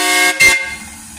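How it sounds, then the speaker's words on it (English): A coal-burning steam locomotive horn blasts loudly for about a second, a strong steady tone that fades out quickly. "Can we hear the horn again?"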